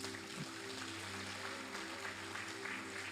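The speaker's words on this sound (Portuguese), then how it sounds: "Aplaude Ele, aplaude." A church congregation applauding during a sermon, a steady wash of clapping under a low sustained hum, even in loudness throughout.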